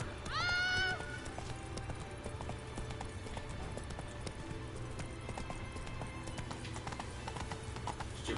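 Horse hooves clip-clop at a steady trot in the Witcher 3 video game, the rhythmic hoofbeats running throughout with a short whinny near the start.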